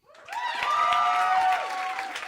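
Stand-up comedy crowd bursting into applause and whoops, swelling quickly, holding for about a second, then tapering off.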